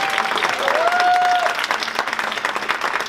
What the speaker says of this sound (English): Round of applause for sponsors, please.